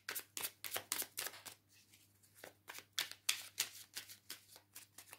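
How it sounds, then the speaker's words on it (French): Oracle cards being shuffled and rearranged by hand, a run of quick crisp riffling bursts, some close together and some spaced apart, close and moderately loud, with no talking. "je réorganise un peu mes cartes"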